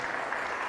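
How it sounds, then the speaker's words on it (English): Applause from a conference audience at the close of a startup founders' panel, a brief steady patter of clapping hands with no voices over it. "So one round of applause for all the 4 startup founders"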